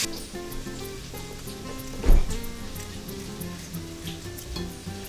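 Carrots and other vegetables sizzling in a pan for a stew, a steady soft crackle heard close, with low background music and one brief louder clatter.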